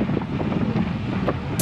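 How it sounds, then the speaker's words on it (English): Strong wind buffets the microphone during an outdoor bicycle ride, a loud, close, continuous rumbling roar with no voices. "You can hear the wind that we're dealing with."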